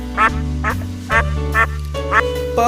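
A duck quacks six times in a steady series of short nasal calls, close and clear, over a low constant hum.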